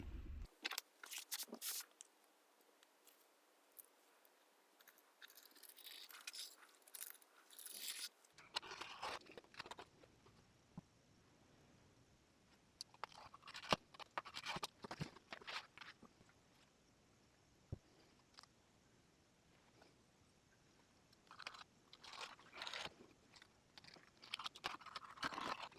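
A blade cuts out a piece of leather for a simple pouch in faint, intermittent bursts of scraping and slicing. Quiet gaps separate the cuts, and no one speaks.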